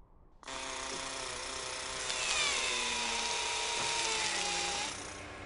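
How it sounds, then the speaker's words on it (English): Mars rover Curiosity's arm-mounted drill boring into rock: a steady, loud mechanical whine with layered tones that shift pitch partway through, running for about four seconds before cutting off. "The drill on the arm allows us to grab some of that rock"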